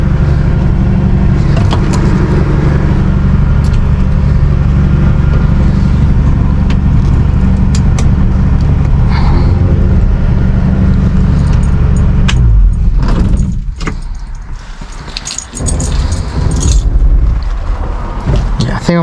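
A 1966 Ford Mustang idles loud and steady from inside the cabin for a long stretch, then the engine note drops away near the end, leaving clicks and rattles of the controls.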